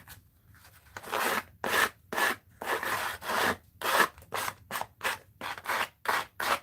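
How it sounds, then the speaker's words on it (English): A piece of card or wood is sanded by hand with quick back-and-forth rasping strokes, about a dozen rhythmic scrapes close up with brief pauses between them. "I'm going to sand this a little here."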